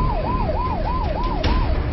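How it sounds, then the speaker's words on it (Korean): Siren signalling the start of a race among about a hundred fishing boats at 6 o'clock, a loud, wailing tone that rises and falls in a regular cycle about twice per second, over low rumbling engine noise. "정각 6시 정적을 깨는 사이렌이 울리자"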